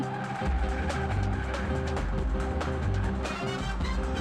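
A car is driven fast, engine roaring loud and near with tires squealing and skidding, the sound surging continuously with dramatic film-style intensity and no talk over it.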